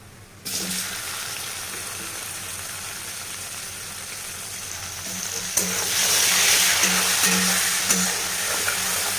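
Chopped onions and tomato fry in a pan, a steady sizzle that swells louder partway through as the tomato goes in, with faint stirring scrapes.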